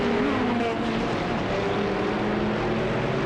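A race car in a racing game replay at Oulton Park in damp conditions, with its engine roaring steadily and close throughout as the pitch shifts slightly.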